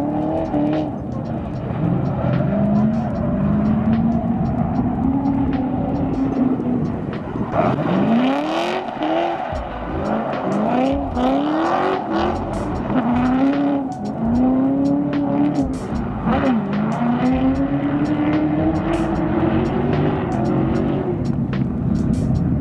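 A drift car on Zeknova tires circles a track, its engine revving repeatedly in rising and falling sweeps, with tire noise and squeal underneath, loud and continuous.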